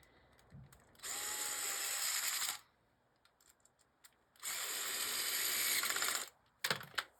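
Two long, steady whirring bursts from a power driver tightening a clamp during a Kangaroo to Dig Dug conversion, each lasting about two seconds, then a short final burst, close and loud with no talking.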